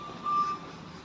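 A truck backing into a loading area gives a single reversing beep, faint and somewhat distant over low engine rumble.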